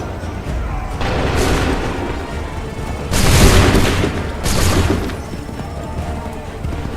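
Musket volleys in the video game Assassin's Creed III: loud, broad crackling bursts of massed gunfire, one early, then two heavier volleys close together, each rolling off into a rumbling wash.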